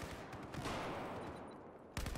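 Gunfire from Battlefield 4 multiplayer, rounds hammering into a wall in a dense, continuous burst that fills the clip, then a fresh loud volley right at the end.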